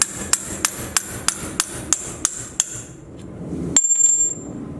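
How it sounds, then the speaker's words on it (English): An old bolt hammered to drive out a worn leaf spring bushing, about ten sharp metallic strikes at an even rhythm, close and loud, followed by a short clatter and ringing. "just going to take another bolt, that one that I cut, and just beat it the rest of the way out"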